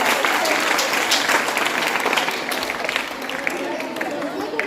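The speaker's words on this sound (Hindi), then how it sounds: "एक बार जोरदार तालियां होनी चाहिए।" Loud applause rises from an audience of students at an environmental awareness quiz event, dense clapping filling the room for several seconds with some crowd noise mixed in.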